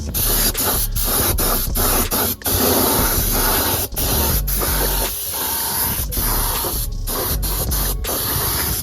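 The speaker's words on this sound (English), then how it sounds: "Spraying it in the spray gun." A spray gun sprays paint onto an engine valve cover, hissing steadily and loudly up close, broken by brief pauses as the trigger is released and pressed again.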